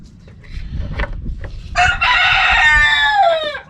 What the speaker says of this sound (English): That would be my roosters.